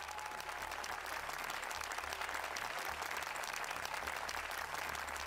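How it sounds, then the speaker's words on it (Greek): A quiz show studio audience applauds a contestant, steady sustained clapping from a crowd that holds evenly throughout at moderate volume. "Ένα χειροκρότημα για τον Γιάννη."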